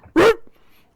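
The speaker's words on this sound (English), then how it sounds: "It lets out a scared, very surprised whimper." A single short, sharp dog whimper rises in a quick tonal yelp, then trails off into quiet, close and loud against a silent background in a fantasy tabletop game scene.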